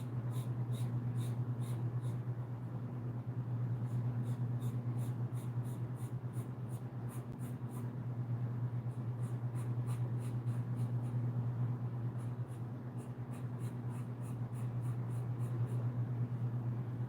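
Charcoal pencil scratching across paper in steady, continuous strokes with rhythmic repeated scraping, close up over a constant low electrical hum.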